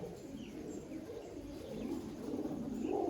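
Small young pigeons in a loft coo softly in a low continuous murmur that swells slightly toward the end, close by, with a few faint chirps above it.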